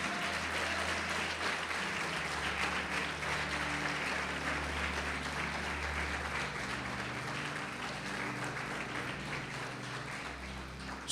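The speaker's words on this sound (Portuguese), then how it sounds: "Você pode aplaudir o Senhor Jesus por isso?" A church congregation applauds, dense sustained clapping from many hands filling the room evenly at a moderate level for the whole stretch, with no speech over it.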